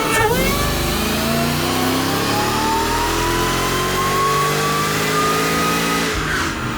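A Mercedes E55 AMG wagon on a dyno, running a little ethanol, revs its engine in one long loud pull that climbs steadily in pitch for several seconds before cutting off abruptly, no talk.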